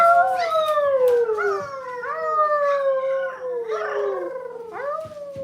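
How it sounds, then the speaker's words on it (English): A puppy howls in a run of long, wavering, rising-and-falling howls, close and loud, with short yips breaking in between and no talking over them. "there he goes. He's howling."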